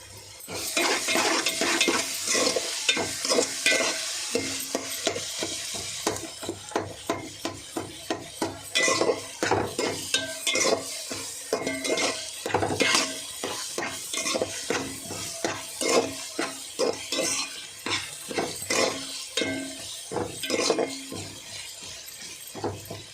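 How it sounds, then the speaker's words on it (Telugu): Ginger garlic paste and cumin fry in a pan for an eggplant, potato and chana dal curry, a spoon stirring and scraping in a steady run of close metallic clicks and scrapes over a soft sizzle. "కొంచెం అల్లం వెల్లుల్లి పేస్ట్ అండ్ జీలకర్ర వేసుకున్నాం"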